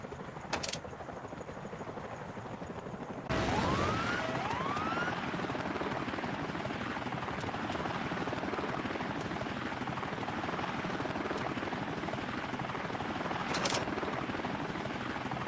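A helicopter in the video game Pavlov roars with a loud, steady rotor drone that swells in suddenly after a quieter opening and holds close and constant, with faint rising whines over it.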